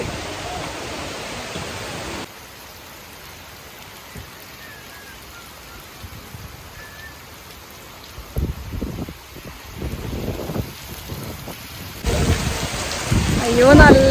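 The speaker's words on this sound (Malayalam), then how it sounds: "അത്യാവശ്യം നല്ല രീതിയിൽ മഴ പെയ്തു തുടങ്ങുന്നുണ്ട്." Heavy rain pours steadily at a temple gateway in Kerala monsoon weather, a dense continuous hiss with scattered louder splashes and patters building toward the end, no talk heard.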